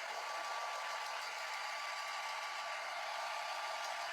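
A hair dryer blowing on painted tin gives a steady, even whoosh of airflow and motor hum, close and constant from start to finish.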